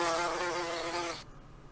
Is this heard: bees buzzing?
yes